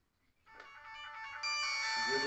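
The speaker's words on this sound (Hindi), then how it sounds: "ये जो साउंड आई थी अभी, ये इस वाले मोबाइल फोन की है।" A mobile phone ringtone sounds on an incoming call in a demonstration of phone-controlled electrical appliances, a bright melodic tone starting softly and swelling louder over two seconds, heard alone without talking.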